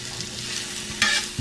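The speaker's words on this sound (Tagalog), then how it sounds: "gigisa na natin yung ating bawang sibuyas" Garlic and onion hitting leftover bacon fat in a pan, a sharp close sizzle with a stirring scrape and a louder burst of frying near the end.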